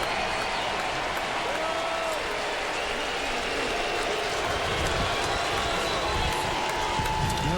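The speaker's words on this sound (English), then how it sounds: "For the first time in this 3-game series, the Cubs fans here at Safeco Field have something to cheer about." Cubs fans cheer and applaud inside Safeco Field right after a sac fly during a Cubs–Mariners baseball game, a steady broad crowd roar with clapping running the whole time, mixed with faint talk.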